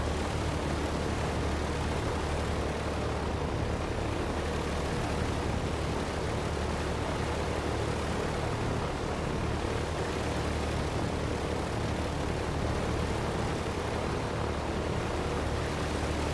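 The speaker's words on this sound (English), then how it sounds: "Left engine still starting up slowly" Douglas DC-3 piston engines in Microsoft Flight Simulator 2020 drone steadily after start-up, a continuous loud propeller hum and roar with no pauses.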